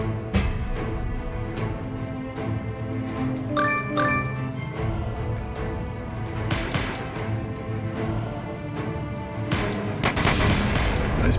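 Officers in the trench warfare game Stickman Trenches fire pistols in quick succession, a steady crackle of gunshots over continuous battle noise, with a brief metallic jingle partway through and no talking.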